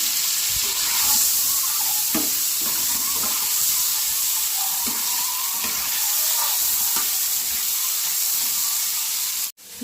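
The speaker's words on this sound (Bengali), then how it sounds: "এবারে ডিমগুলো ভেজে নেব।" Eggs rubbed with salt and turmeric fry in a pan with a broad, steady sizzling hiss and occasional spatters and scrapes. The sound stays close and continuous for nearly ten seconds, then cuts off abruptly, with no voices.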